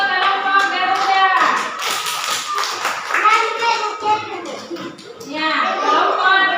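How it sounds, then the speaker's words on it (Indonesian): Children applaud for a group in a classroom, with steady clapping throughout while a teacher and kids speak over it. "Tepuk tangan untuk kelompok Garuda."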